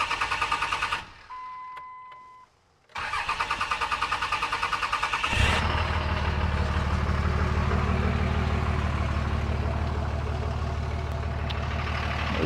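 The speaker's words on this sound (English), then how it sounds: "Truck started, it did take a minute" A pickup truck with ongoing mechanical problems cranks over repeatedly in a rapid rhythmic churn, pauses briefly, cranks again, then catches and settles into a loud, steady, close idle.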